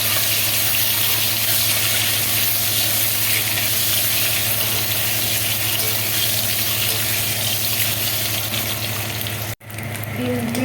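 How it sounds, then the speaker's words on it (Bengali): A turmeric-coated egg fries in hot oil for an egg curry, giving a loud, steady, close sizzle that runs unbroken and cuts off sharply near the end. "তেলটা গরম হয়ে গেছে ডিমটা দিয়ে দেবো"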